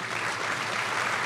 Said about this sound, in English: So a round of applause for Tom and Ellen Harris.